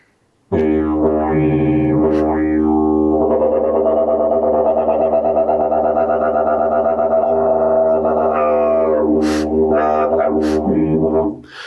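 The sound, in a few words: instrument imitating a kookaburra call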